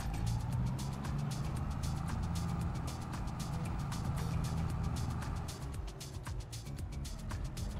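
Farm vehicle driving in the game Farming Simulator 22 on the Mountain Hill map, a steady low engine hum with faint rhythmic clicking, fairly quiet and continuous.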